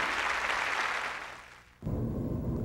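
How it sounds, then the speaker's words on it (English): Audience applause for ballroom dancers at a world standard dance championship, loud and dense at first, then fading away before a different background takes over abruptly. "a round of applause and thank you, dancers"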